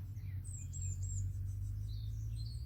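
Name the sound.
birds chirping outdoors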